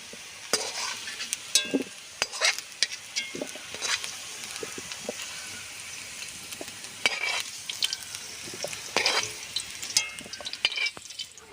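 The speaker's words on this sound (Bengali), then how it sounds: "সুন্দর করে আলুগুলো ভাজা হয়ে গেছে," Potatoes frying in a pan for a village-style Bengali ghugni with meat and green peas, with a steady close sizzle broken by repeated stirring scrapes and clinks throughout.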